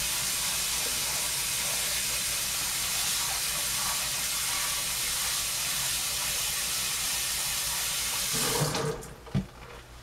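Running tap water pours steadily over potatoes in a bowl, a loud continuous hiss and splash that cuts off near the end, followed by a brief clunk.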